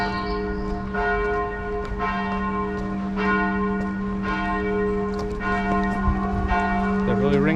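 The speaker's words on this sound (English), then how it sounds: "They're really ringing that bell behind me." A cathedral bell on Ostrów Tumski in Poznań, Poland, tolls repeatedly in a slow, steady rhythm, loud and resonant with a humming undertone.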